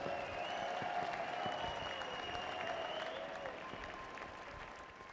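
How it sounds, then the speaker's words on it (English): A crowd at the 24h Dubai 2017 endurance race ceremony applauds the top three finishers with a steady wash of clapping that fades slightly toward the end, with faint tonal hum beneath. "Let's have a round of applause for our top 3 finishers."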